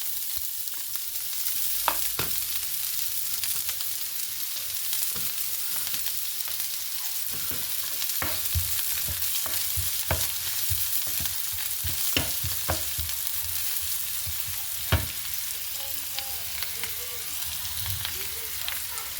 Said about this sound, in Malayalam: അപ്പോൾ ഞാൻ ഈ ഓണിയനും കുറച്ച് വേപ്പിലയും കൂടി ഇതിനകത്തേക്ക് ആഡ് ചെയ്ത് കൊടുക്കുകയാണ്